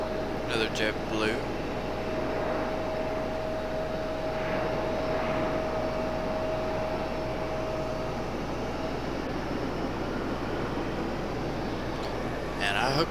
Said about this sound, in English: I hope you guys can hear that A220. That is literally the best sounding airplane to me